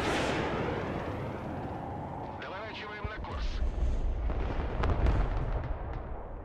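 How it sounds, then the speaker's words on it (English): A Patriot air-defence unit near supply, struck by SU-57 fire in the Broken Arrow game, erupts in a broad rumbling blast that swells into heavy booming and crackling debris. Someone talks over it throughout. "it hit a Patriot, which was near supply, which is why it exploded so much over there"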